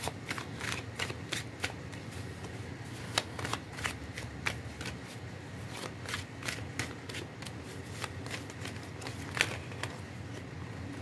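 Tarot cards are shuffled and handled close by, with a continuous run of quick, crisp snapping flicks and slides at an uneven rhythm.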